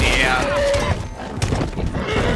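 A horse in the video game Red Dead Redemption 2 gives a loud, close whinny that rises and then falls. Hoof clatter and other game noise follow during a chaotic chase.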